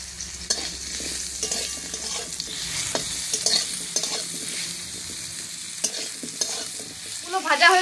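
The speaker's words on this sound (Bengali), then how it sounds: "মাছ ভাজার তেলটাতে আমি আমগুলো ভেজে নেব।" Raw mango pieces fry in oil left over from frying fish, giving a steady close sizzle with scattered stirring clicks and scrapes throughout, swelling louder near the end.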